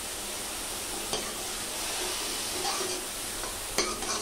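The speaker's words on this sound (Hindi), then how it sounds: "मूली डाल दिया। तो देखिए, अच्छे से भून लेंगे इसको।" Radish pieces and green chilli fry in a pan with a soft, steady sizzle, while a spoon scrapes and stirs in a few sharp clinks against the metal.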